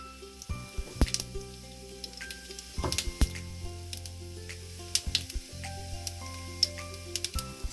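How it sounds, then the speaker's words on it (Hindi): Cumin seeds hit hot oil and sizzle with a continuous crackling hiss, scattered sharp pops rising over it, close and steady, alone without any talk. "तेल गरम हो गया है। अब इसमें डालते हैं हम जीरा"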